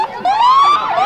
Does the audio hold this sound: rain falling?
no